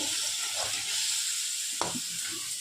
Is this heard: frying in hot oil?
yes